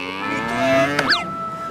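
A cow lets out one drawn-out, fairly close moo that rises and bends in pitch near the end, heard alone with no talking.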